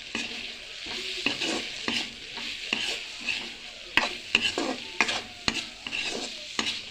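Spices sizzling and frying in a pan with red chilli and meat masala, stirred with repeated scraping strokes against the pan in an irregular rhythm, close and steady, with no voices.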